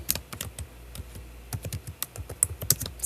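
Rapid, uneven keystrokes on a computer keyboard as names are typed in, close and steady clicking throughout with no speech.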